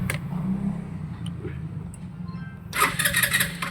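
A Rusi Rapid motorcycle with a rusty carburettor and hard-starting fault cranks with a low rumbling whir, then catches near the end with a louder, rougher engine burst, heard up close.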